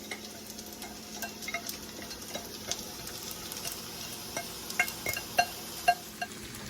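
Pad Thai rice noodles frying in a pan as sauce goes in, a low steady sizzle with stirring scrapes and clinks of a utensil against the pan, growing more pronounced toward the end, no talking.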